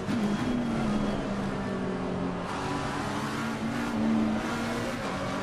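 Race car engine in Assetto Corsa Competizione droning steadily at high revs, its pitch rising and falling slightly through gear changes as the car drives, loud and continuous with no talk.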